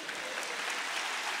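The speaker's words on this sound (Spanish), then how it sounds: "¿Cuántos le quieren dar un aplauso a Jesús?" A church congregation claps together during a sermon, making a brief, even wash of applause that holds at a steady level for a second and a half.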